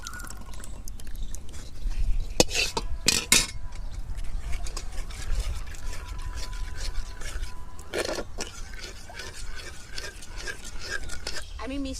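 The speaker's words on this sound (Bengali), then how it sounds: "নাড়া দুধটি" Milk is stirred into a pot for sweet yogurt (mishti doi), with a spoon rubbing and scraping against the pot in irregular strokes and a few sharper clinks, heard up close.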